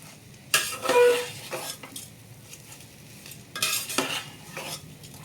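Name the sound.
sautéing leaves into spiced pea rice in a pan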